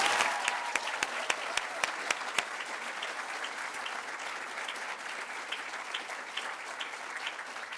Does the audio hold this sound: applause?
yes